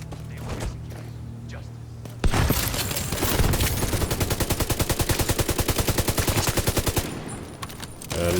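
In The Division 2, a weapon opens up with a sudden heavy blast, then a fast, even train of repeated thumping shots for several seconds before cutting off, over a low game hum and occasional talk.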